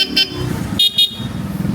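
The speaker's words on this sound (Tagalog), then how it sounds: "Tapos busina, Bosch Europa," A Bosch Europa horn fitted to a Yamaha Aerox V3 scooter honks in short blasts: one brief toot, then a quick double toot, loud and close over a running engine.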